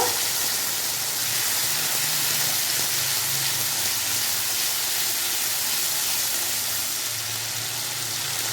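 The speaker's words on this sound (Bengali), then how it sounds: "দিয়ে মশলাটা আমি ভালো করে ভেজে নেব।" Ground spice paste frying in a pan for egg and lentil khichuri, a steady sizzling hiss that holds evenly throughout with faint low hum beneath, no talk.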